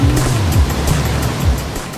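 A torrent of 6,500 gallons of water a second crashes down at a canoe run in Nottingham, England, making a loud, continuous roaring rush with a deep, rumbling low end throughout.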